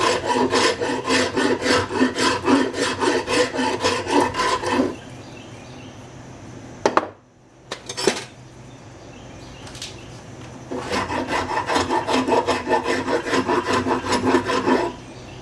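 A rasp files the wooden handle during a plumb hatchet restoration. Loud, close, rapid back-and-forth rasping strokes run for about five seconds, then give way to a quieter pause with a couple of knocks before the steady rasping resumes.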